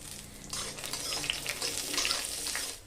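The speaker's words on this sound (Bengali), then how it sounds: "বাদামটা একটু ভেজে নিই, এর মধ্যে আমি দিয়ে দেবো আমি যে শুকনো নারকেলটা রেখেছিলাম।" Peanuts and dried coconut fry in a pan, a steady sizzling crackle that swells after a quiet start and holds close and continuous, with faint stirring scrapes and no voices.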